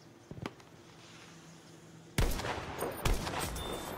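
Gunfire in the Battlefield V video game: a few faint early shots, then loud bursts of rapid automatic fire with explosive cracks that continue to the end over steady background noise.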